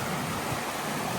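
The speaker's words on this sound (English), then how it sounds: "Standing at the top of Sand Branch Falls." Steady, broad rushing water pours at the top of Sam Branch Falls, a series of small cascades on a creek near Sam Knob, North Carolina, filling the air with constant, close white noise.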